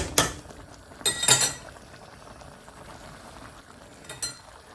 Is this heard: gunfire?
no